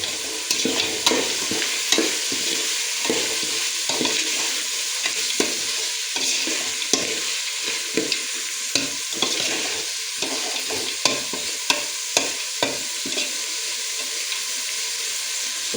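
Carrot, potato and tomato pieces frying in oil for veg pulao, a continuous hot sizzle broken by regular scraping and clattering stirs of a spoon against the pan, close and loud with no talking.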